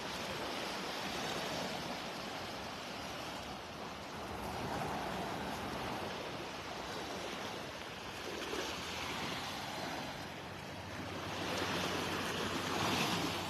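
Surf rolls steadily onto a Gulf beach at Delnor-Wiggins in Naples, Florida: a broad continuous wash of waves with soft swells and light wind noise, no voices.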